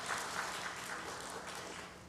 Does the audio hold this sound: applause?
yes